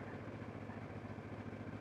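A motorcycle idles to recharge its battery after two weeks parked, giving off a quiet, continuous low-pitched chug that pulses evenly and stays faint throughout.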